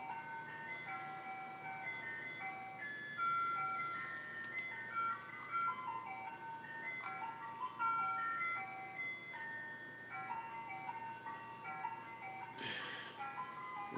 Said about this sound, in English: Wait for the ice cream truck to go by.